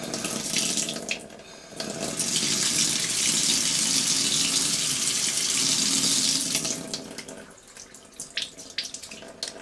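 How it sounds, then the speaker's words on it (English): A tap runs steadily into a sink, a loud continuous rush of water for several seconds before tapering off into scattered splashes. "let's see what happens when we turn the water on"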